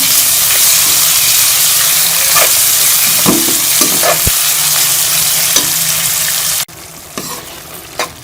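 Tomatoes and green chilies fry in a pan with a loud steady sizzle, broken by several sharp spatula scrapes and clicks; the frying suddenly drops much quieter near the end, leaving a few scattered taps.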